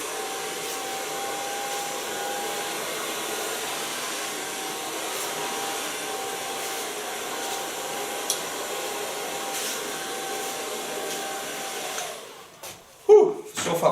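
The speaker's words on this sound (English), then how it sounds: "so far blow drying" Hair dryer blow-drying long blonde hair in a salon, a steady close whooshing roar held for about twelve seconds before cutting off, followed by brief handling sounds.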